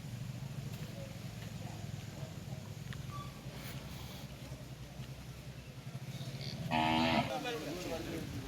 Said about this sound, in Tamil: பாருங்கள் எவ்வளோ மாடுகள் இருக்குன்னு